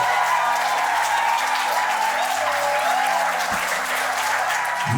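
Steady, loud applause fills a civil wedding ceremony at a town hall right after the couple's vows, a dense crowd clapping continuously with no voices standing out.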